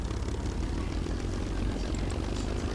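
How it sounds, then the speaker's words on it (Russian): Aircraft engine in a combat flight game running at low revs, a steady, dense propeller drone that holds evenly throughout without other sounds on top. "что-то странные звуки я слышу от мотора самолета Криса."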